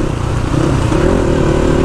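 Sport motorcycle engine on a rough mountain road near Manang: a loud, close, steady engine drone with slight rumble and clatter, with no voices.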